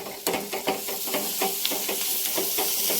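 Tiny kolim shrimp roast with turmeric and garam masala in a pan, giving a steady, close hiss and sizzle broken by regular soft scraping strokes of stirring.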